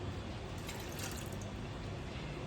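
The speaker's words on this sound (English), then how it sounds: "now we need to pour in 15 milliliters of lemon juice" Lemon juice poured into a jar during preparation of an orange and Grand Marnier mixture, a steady close-up trickle of liquid that runs evenly throughout without pauses.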